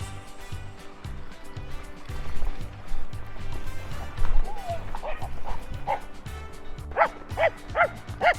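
A walked dog barks in short yips and bow-wows, several sharp barks at mid distance toward the end, amid outdoor ambience with someone talking over it.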